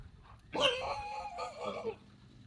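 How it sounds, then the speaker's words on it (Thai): A dog barks and yips in one short burst of a second or so, fairly faint, with no talk over it. "หมาเห่า"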